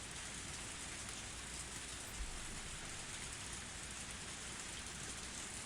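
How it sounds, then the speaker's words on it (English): Steady pouring rain as a continuous hiss, even and unbroken throughout, heard alone at a soft, constant level. "The only sound of the pouring rain filled up the silence."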